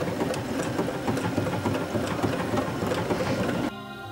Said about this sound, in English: you can use the foot pedal to stop and start sewing.